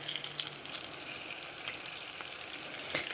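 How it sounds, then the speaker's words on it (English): Tortilla shell frying in hot oil for crispy breakfast tacos, with a steady close sizzle and occasional sharper crackles and pops throughout. "Putting it in the oil first, just help it soften up so you can fold it and your shell won't break in half down the middle"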